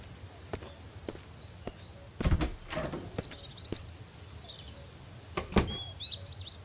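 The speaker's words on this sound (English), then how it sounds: "But I hear birds singing." Birds chirp and sing in a foggy outdoor scene in the survival game Mist Survival, with repeated thin high calls scattered through the clip amid footsteps and other clatter.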